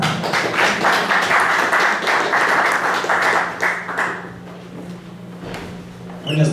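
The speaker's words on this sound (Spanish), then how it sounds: "Un fuerte aplauso, por favor." Audience applause at an evening tribute to a writer's life and work, a loud, dense burst of clapping that fades away midway, followed by quiet and a brief noise at the end.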